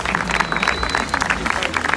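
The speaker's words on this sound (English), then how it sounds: "Give another round of applause, guys" A crowd applauds at the FIFA eWorld Cup Champions Cup in Barcelona, a continuous patter of clapping with voices talking over it for two seconds.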